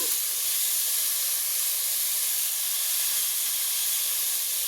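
Tomato pieces hit a hot pan for a tomato and onion curry and set off a loud, steady hiss of sizzling and steam that holds evenly from start to finish, with no talking.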